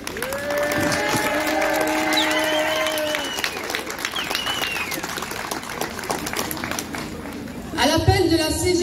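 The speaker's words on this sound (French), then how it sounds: "Donc je pense qu'on peut applaudir les jeunes qui se mobilisent." Crowd applauding at a CGT union demonstration in Tarbes, dense clapping mixed with cheering and voices, continuous and fairly loud throughout, with a louder burst near the end.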